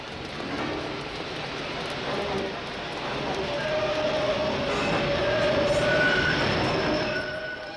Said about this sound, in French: Le jeudi soir, j'ai suivi Jerry dans le métro